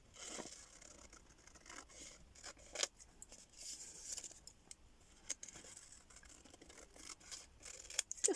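Scissors working slowly around a scrap of music paper, heard as faint, close, scratchy snips and rustles that continue steadily, with a couple of sharper clicks and no speech.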